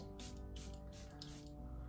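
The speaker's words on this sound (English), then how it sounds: "I guess Charlotte Tilbury setting spray" Several short bursts of Charlotte Tilbury makeup setting spray hiss in quick succession, close up, over a steady low background hum.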